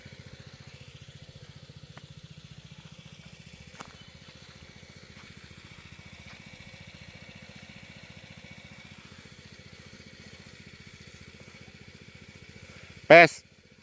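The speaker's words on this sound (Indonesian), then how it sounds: "Ini saya memakai mesin apa ya, merek Sanchen, mesin Dorsmir untuk nyemprot." A Sanchen motorized sprayer engine runs at a steady, even idle, a close, constant pulsing drone that lasts throughout, with one sharp, loud knock just before the end.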